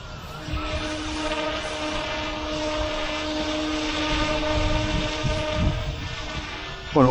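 A scaled RC Yu Xiang Apache F11-S GPS helicopter flies nearby with a steady, high whining rotor and motor drone, fairly loud and constant, swelling slightly as it moves outdoors.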